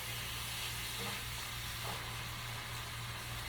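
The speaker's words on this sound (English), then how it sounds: "And I'm going to let that meat cook." Meat sears over high heat in a pan for a Philly cheesesteak, a steady close sizzle and hiss with a low background hum and no talking.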